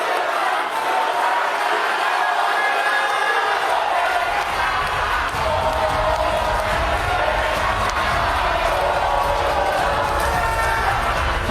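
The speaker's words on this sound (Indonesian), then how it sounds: "Berikan aplaus dan apresiasi untuk 3 calon wakil presiden yang sudah menyampaikan visi," A studio audience at a televised Indonesian vice-presidential candidates' debate claps and cheers for the three candidates, a dense, loud, steady roar of applause lasting the whole stretch.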